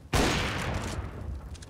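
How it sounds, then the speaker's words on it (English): A single loud gunshot in CS:GO fired through a wall, a sharp blast followed by a rolling, echoing tail that fades over about a second. "Wallbang denemeleri var be."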